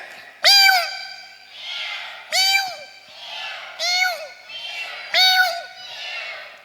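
A voice mimics a kitten's meow four times, each a bright rising-falling mew, with crowd chatter and murmuring between them during a storytelling session.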